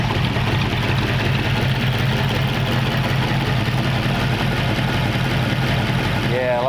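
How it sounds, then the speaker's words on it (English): A hot rod V8 with dual exhaust and a lumpy cam idles steadily nearby, a continuous rough low rumble with a faint whine rising near the end. "this thing is officially a hot rod now. Dual exhaust, nice cam sound to it."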